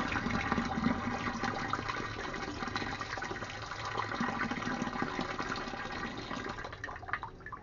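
Water splashes and gushes steadily close by while a catfish is handled, a continuous rushing, pouring sound with no talk over it.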